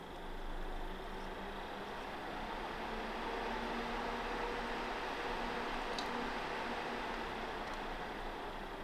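A knockoff ICOLER UNI PC fan mounted against a radiator gives off a steady broadband whoosh of moving air with a faint tonal hum, unchanging and continuous throughout.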